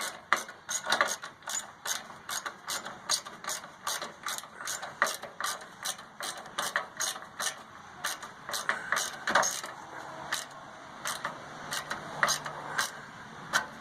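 A hand ratchet snugs up a bolt on a car part during a GF8 build, giving a close, rhythmic series of sharp clicking strokes that run steadily for the whole stretch.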